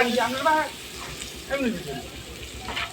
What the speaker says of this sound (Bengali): তারপর আবার ভালো করে 2-3 মিনিট কষাবো।